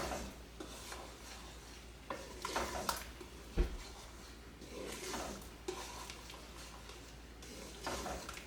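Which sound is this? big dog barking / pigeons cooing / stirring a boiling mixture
stirring a boiling mixture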